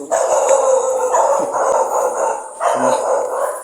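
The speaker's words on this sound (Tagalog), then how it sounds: "Yes, may aso." Several dogs bark and howl together nearby, a continuous chorus of yelps and drawn-out howls with brief pauses between bursts.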